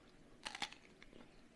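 Crisp crunching bites into a fresh cucumber, two sharp close crunches followed by softer chewing, fairly quiet with no talking.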